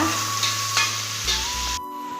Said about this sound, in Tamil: வெங்காயம் சேர்த்து நல்லா வதக்கிக்கலாங்க